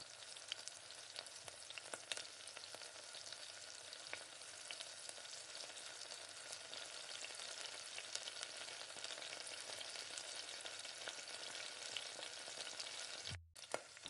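Chicken pieces fry in oil with a faint, continuous hiss and crackle, even and unbroken, with scattered small pops and a brief dropout near the end.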